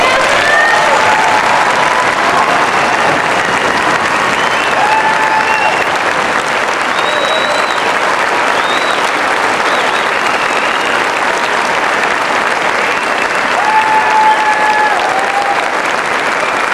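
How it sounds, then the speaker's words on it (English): An audience applauds graduating seniors at the Radnor High School commencement ceremony, a long continuous roll of clapping with scattered whoops and cheers, loud and sustained without a break. "I ask that you stand up and give these seniors and fellow classmates a round of applause"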